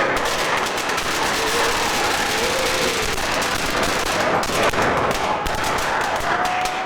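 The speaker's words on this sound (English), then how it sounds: "There's the fireworks coming into play." Rapid crackling bursts of fireworks go off continuously during a wrestling deathmatch, over a dense, loud wash of noise, with a few pops standing out sharper than the rest.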